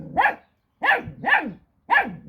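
A Kangal puppy barks sharply four times in quick uneven bursts, close and fairly loud, with short silent gaps between the yaps.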